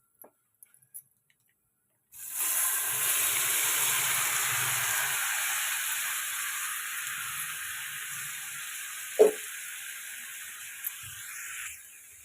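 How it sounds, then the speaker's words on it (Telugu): Boiled broad bean pieces hit a hot oiled pan, setting off a loud, steady hiss of sizzling that starts abruptly and gradually eases, with a brief clatter near the end. "ఇప్పుడు చిక్కుడుకాయ ముక్కలు వేసుకుందామండి ఉడకబెట్టుకున్నవి."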